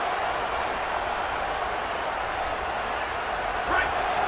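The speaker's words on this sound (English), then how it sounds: "Listen to this crowd just shaking the girders of this place trying to help their defense" A packed stadium crowd roars steadily at an Ohio State at Indiana college football game, a dense, loud wall of noise that swells briefly near the end, with no break throughout.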